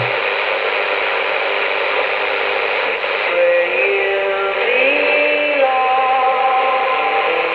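Steady hiss of shortwave radio static from an Icom 718 receiver tuned near 6.1 MHz, loud and close, with faint warbling tones drifting through the noise partway in.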